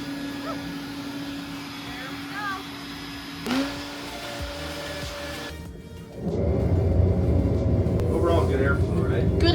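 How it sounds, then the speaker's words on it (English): Vacuum cleaner sucking up debris cleared from an 18-foot dryer vent, a steady loud roar that surges louder partway through, with people talking over it. "I'm gonna just vacuum up the mess that came out"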